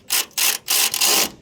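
Fasteners are tightened on a Jeep XJ engine in four short, close ratcheting bursts separated by brief pauses, with no talking.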